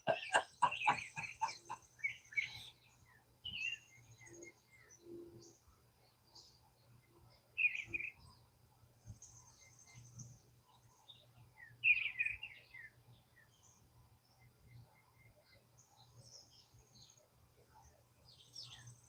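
Birds singing at dawn outdoors: a burst of rapid chirps at the start, then scattered clear calls and trills at intervals over a faint low hum, some near, some farther off.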